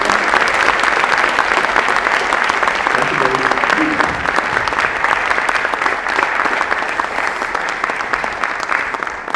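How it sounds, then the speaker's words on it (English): A large audience at an African history talk applauds loudly and steadily for about nine seconds, a dense wash of clapping with faint crowd murmur and a brief voice beneath it. "Give him a round of applause."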